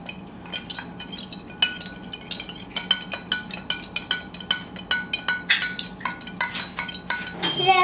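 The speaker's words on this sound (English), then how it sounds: "Can you mix it with that spoon?" A spoon stirs lemonade with baking soda in a cup, clinking against the sides in a quick, steady rhythm of close, bright taps that speed up and bunch together toward the end.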